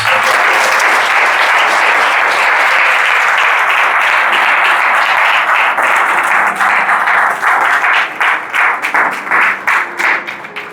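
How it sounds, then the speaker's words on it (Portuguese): A church congregation applauds loudly in a tent worship service, a dense, sustained roar of clapping that thins toward the end into more distinct, rhythmic claps. "Vamos aplaudir o Senhor por isso?"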